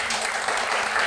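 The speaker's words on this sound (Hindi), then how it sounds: "जोरदार तालियां" Loud, dense applause from a crowd, a continuous wash of many hands clapping at once throughout.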